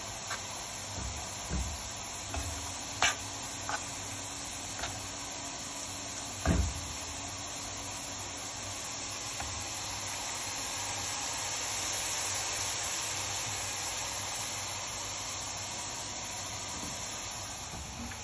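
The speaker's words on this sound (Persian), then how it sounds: "سیب زمینی هامونم من نگینی کوب کردم و داخل روغن دارم سرخش میکنم" Diced potatoes fry in hot oil, a steady soft hiss and sizzle running throughout, with a few light clicks and knocks from a utensil or pan near the start.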